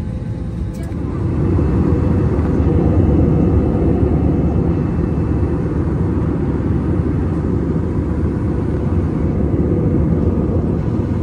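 Steady loud engine drone and low rumble fill the cabin of a small airplane flying through cloudy, drizzly bad weather, constant and unbroken throughout.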